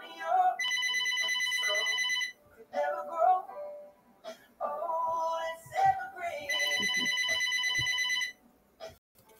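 A phone ringtone plays in two long bursts of bright electronic chiming, with a person talking in the quieter gaps between them.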